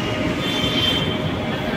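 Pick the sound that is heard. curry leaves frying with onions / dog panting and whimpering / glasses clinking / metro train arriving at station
metro train arriving at station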